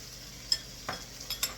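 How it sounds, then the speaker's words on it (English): Small diced tomatoes tumble into a hot pan, bringing a soft wet sizzle with a few sharp scrapes and clinks of a utensil against the pan, alone and close by. "So now here, I have some little small tomatoes that I diced up. I'm going to dump that in here."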